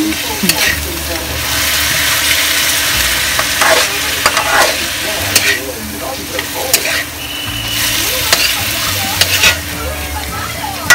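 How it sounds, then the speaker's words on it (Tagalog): Chicken tinola with ginger is stirred in a pot, a loud steady sizzle with repeated scraping and clattering from the utensil against the pot throughout. "Haluin nyo lang ng haluin."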